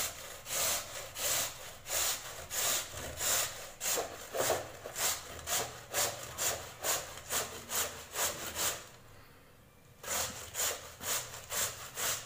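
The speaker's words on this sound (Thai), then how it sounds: "แล้วเราจะต้องขูด โดยใช้ที่ขูดแบบนี้นะคะไวดี" Peeled potato rubbed against a hand grater into long strips, a steady back-and-forth rasping in rapid even strokes, close and fairly loud, pausing briefly near the end before resuming.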